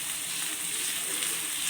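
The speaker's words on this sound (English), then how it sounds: "Now I am frying the rest of the pieces also." Vanjaram fish pieces fry in a pan with a steady, close, bright sizzle that holds level throughout without interruption.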